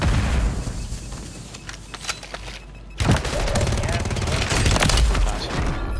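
Call of Duty gameplay with a grenade blast and rapid gunfire. A dense, loud barrage of shots and booms rolls on almost without a break, and a sharp burst lands midway through.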